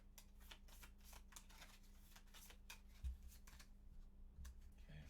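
A deck of cards is shuffled during a solo Gloomhaven board game session, a quiet run of rapid riffling flutters and soft slaps with a couple of louder thumps, close and alone over a faint steady hum.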